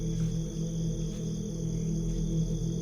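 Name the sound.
crickets chirping in a forest at night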